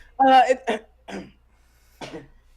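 A voice imitates a small nervous cough: a couple of quick throaty bursts, then a softer one after a short pause.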